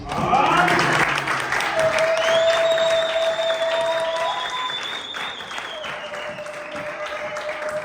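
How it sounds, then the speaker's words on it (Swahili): A church congregation applauds the preacher, a loud burst of clapping that gradually thins out, with a sustained whistle-like tone running through it and voices mixed in. "Tumepata kusimama na tumpigie makofi."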